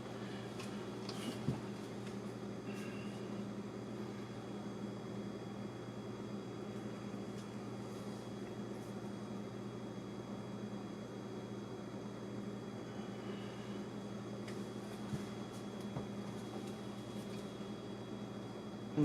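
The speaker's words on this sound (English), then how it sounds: "And I apologize for the refrigerator noise." A refrigerator hums right beside a running 1984 Casablanca Four Seasons Low Ceiling Series ceiling fan on medium speed; a steady, continuous drone with faint clicks, close and unbroken throughout, with no talk.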